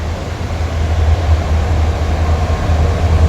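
A freight train rolling past near a waterfall in the Ranpat area, a loud steady rumble with deep low-end roar, continuous and close, no talking.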